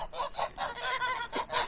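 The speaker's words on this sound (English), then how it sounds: "We're being escorted by geese." Geese honk repeatedly in a noisy chorus, several close calls overlapping in a steady stream as the birds escort people along a village path in Kharkivtsi, Ukraine.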